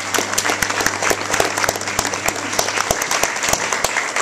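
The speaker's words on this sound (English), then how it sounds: "A round of applause for us" An audience at a literacy charity's recognition night claps in a loud, dense round of applause, steady and unbroken for the whole stretch, with no voices over it.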